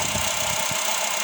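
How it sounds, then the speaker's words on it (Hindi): A car engine that has just been switched on idles steadily and loudly up close, with a constant rumbling drone and faint knocking vibration and no other sounds. "इसको इंजन को हम ऑन करते हैं"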